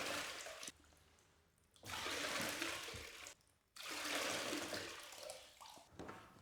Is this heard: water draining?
yes